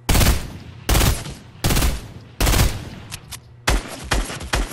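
Burst rifle fire in a shooter game, loud close volleys of rapid shots in five or six clipped groups spaced under a second apart, no talking.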